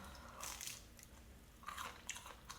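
Crunchy McDonald's McNuggets being bitten and chewed close to the mic, two bursts of crisp crunching with quieter mouth sounds between, no talking.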